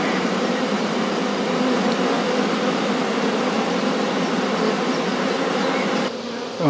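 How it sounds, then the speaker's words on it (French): A swarm of honey bees buzzing in a dense, continuous drone, loud and close, holding steady before dropping off briefly at the end. "Il y a beaucoup d'abeilles."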